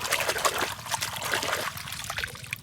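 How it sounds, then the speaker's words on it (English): Water trickles and splashes steadily, a light pouring sound close by, with no voices. "I have to put some water first."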